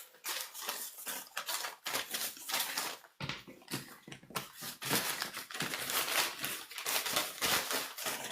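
Paper pages are shuffled and crinkled continuously at close range, with dense, irregular rustling and brief pauses throughout.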